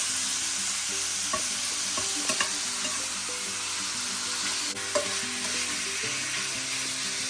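Chopped bacon sizzles steadily in a pan while being stirred, a continuous close crackle with a few light scrapes and clinks from the utensil, no speech.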